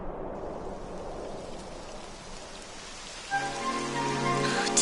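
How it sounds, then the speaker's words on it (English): Steady rain falling in the Dragon Age video game, a constant soft hiss of drops on surfaces, with a musical tone entering near the end. "It would have to go and start raining."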